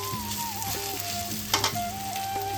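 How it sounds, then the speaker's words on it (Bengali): Onions fry golden in a pan for a Bengali chicken curry, giving a steady close sizzle with a brief stirring clatter midway and a soft melody underneath. "পেঁয়াজটা আমাদের সোনালি রং করে ভাজা হয়ে গেছে।"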